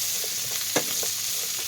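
Bacon fries in a pot with a steady, crackling sizzle, broken by a few soft stirring scrapes and one sharper clink near the middle.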